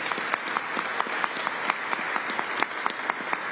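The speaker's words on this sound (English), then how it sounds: "Let's give him a round of applause as well." Audience applause at a New York state government press event, a steady wash of clapping from a moderate-sized crowd with scattered sharper claps, continuous and fairly close.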